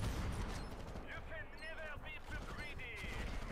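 Sniper rifle shots ring out during a video game match in a steady stream of gunfire, with tonal effect sounds and game noise running throughout.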